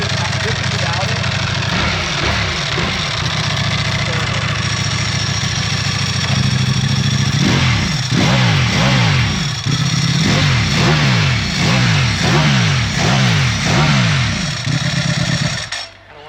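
A 2024 BMW M1000R Competition, nearly new and still in break-in, idles and then revs in a series of repeated rhythmic blips that bounce off a soft rev limiter, loud and close, with voices talking over it.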